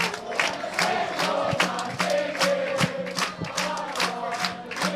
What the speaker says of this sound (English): Now let's have a look at the supporters here, all cheering when the Saints go marching in.